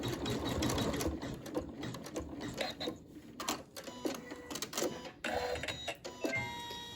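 An embroidery sewing machine stitches fabric for a pincushion project, its needle running in a fast, steady mechanical chatter with brief pauses and shifts in pace, heard close and without talk.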